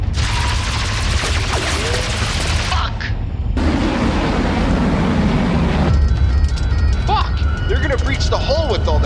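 Video game machinima gunfire, dense continuous bursts of shots and booms filling the scene, loud and sustained, with voices talking over the combat.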